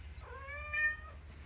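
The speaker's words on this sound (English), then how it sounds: "Meow? Is that all you got?" A single cat meow, a clear rising and falling cry lasting about a second, fairly faint over a low steady hum.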